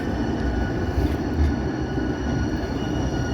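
A Portland MAX light rail train rumbles steadily nearby, with a low rolling drone and faint wheel squeal on the rails, and no voices over it.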